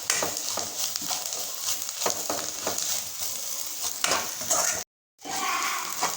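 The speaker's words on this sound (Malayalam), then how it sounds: "നല്ലതായിട്ട് ഇളക്കി കൊടുക്കണം." A spring onion curry with chilli, coriander and garam masala powders is stirred in a hot pan. Frying crackles sit under rhythmic spatula scrapes against the metal, with a short silent gap near the end.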